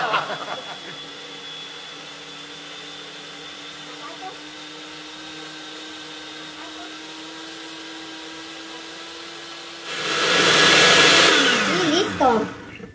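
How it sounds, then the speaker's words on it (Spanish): A blender whirs through birria sauce, starting as a low, quiet hum and then surging into a loud, roaring burst near the end before cutting back down. "Vamos a licuar de bajito a alto para que no se vayan a quemar."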